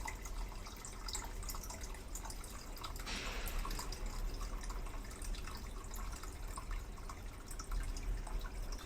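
Water pouring from below a container into a mug during an experiment on air, a steady close trickle with small drips, quiet and continuous, with no talking.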